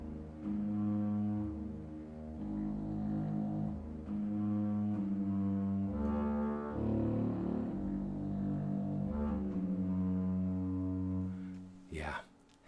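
Soft sustained modern woodwind tones from the Heavyocity VENTO library play a slow series of low, breathy held notes, fairly quiet and even, ending with a brief sharp noise.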